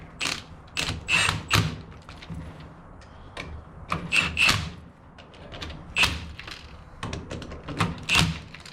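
Bolts going into a car rear end and being tightened, with repeated metallic ratcheting and scraping bursts, close by and moderately loud, separated by brief pauses.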